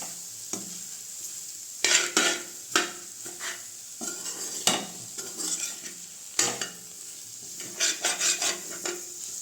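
Beaten egg sizzles and fries in a pan for corn fried rice while a spatula stirs and scrapes it in irregular bursts, close and fairly loud, with no talking.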